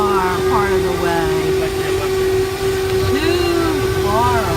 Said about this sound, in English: Watch the tram car.